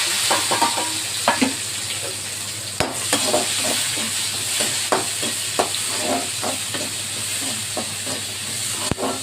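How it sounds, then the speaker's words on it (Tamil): Mustard seeds splutter in hot oil before onions and tomatoes go in, a hissing sizzle dotted with irregular crackling pops and two sharp knocks against the pan. "எண்ணெய் ஊற்றி கடுகு போட்டுருவோம்"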